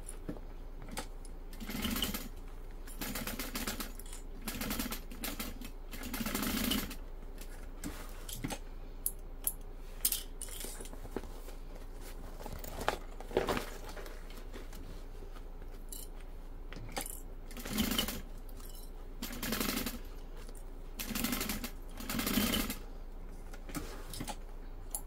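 A sewing machine stitches the seams of a bag lining, running in short bursts of rapid whirring separated by pauses, close and steady over a faint background hum.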